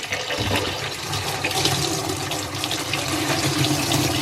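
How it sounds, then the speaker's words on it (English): Water pours and splashes steadily into a washing machine's fabric dispenser for several seconds, a continuous rushing gush close by with no talking. "take the rest of your water and pour it in there"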